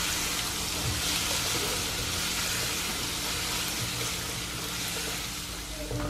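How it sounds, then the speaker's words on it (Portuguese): Bacon frying in a pan with crushed garlic added gives a steady, dense sizzle and crackle, close and even throughout, with no talking. "o bacon já deu uma fritadinha, tá vendo? Aí agora eu venho colocando alho triturado"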